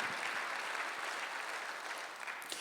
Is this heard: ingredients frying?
no